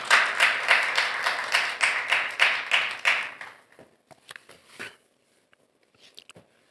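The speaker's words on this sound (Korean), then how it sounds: "큰 박수로 환영을 부탁드리겠습니다" At an AI ethics policy seminar, an audience claps to welcome the next speaker, a brisk rhythmic round of applause that fades after about three seconds into a few scattered, fading claps.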